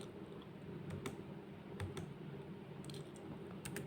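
Fast bursts of typing on a computer keyboard while text goes into a form, with clustered key clicks separated by short pauses, quiet and close, no voices.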